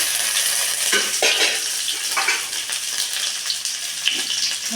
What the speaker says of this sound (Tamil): கடுகு வாங்கினா ஒரு பெரிய வெங்காயம், வரமிளகா, பச்சை மிளகா போட்டாச்சுங்க.